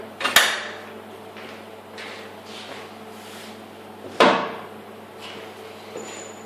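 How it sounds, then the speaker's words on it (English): A clamp is set and tightened onto a part for a Super 7 Locost car frame, giving two sharp metallic clanks with creaks and soft scraping handling sounds between them. "And I clamp it roughly into position."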